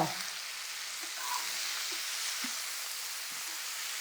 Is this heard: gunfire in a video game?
no